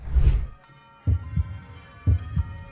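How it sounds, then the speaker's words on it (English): A heartbeat sound effect from a TV drama thumps in deep, muffled lub-dub pairs, two beats roughly a second apart after a low opening rumble, close and alone with no talking. "The heartbeat."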